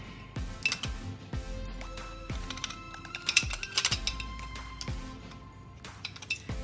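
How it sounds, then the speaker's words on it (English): A lever cap being fitted onto a metal hand plane over the blade: a series of sharp metallic clicks and knocks, some ringing briefly, with scraping and handling noises between them. "Put the lever cap in."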